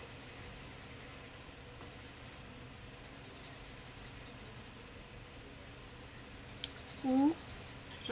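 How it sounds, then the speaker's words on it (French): A colour blender pencil rubs across paper in soft, steady scratchy strokes, close and quiet, with a brief short voice sound near the end. "Je vais essayer de mélanger avec mon blender."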